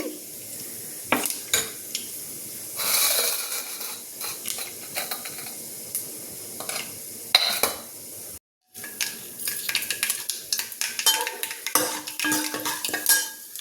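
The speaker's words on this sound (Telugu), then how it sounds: "తాలింపు గింజలు మంచి ఎరుపు వచ్చేలా వేగిపోవాలి" Tempering seeds frying in oil and being stirred in a pan, with a patchy sizzle broken by frequent utensil scrapes and clatters, a brief silence midway, then more stirring and sizzling.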